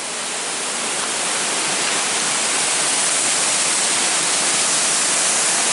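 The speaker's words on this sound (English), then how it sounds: "just to be able to see this majestic waterfall again" Waterfall on the Eagle Creek Trail in northern Oregon, a loud, steady broadband roar of falling water heard up close, unbroken and alone for the whole stretch.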